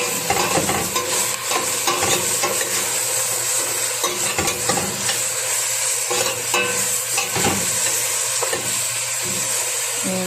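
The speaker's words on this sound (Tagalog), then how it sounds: "Haluin lang natin siya." Okra frying in a pan, stirred with a utensil: a loud, steady sizzle with repeated scraping and knocking strokes against the pan, close up and without voices.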